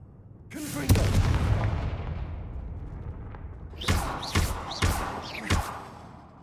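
A Confringo fire spell in the Hogwarts Legacy video game, a loud booming blast that trails off, followed by a rapid string of four sharp explosive bursts.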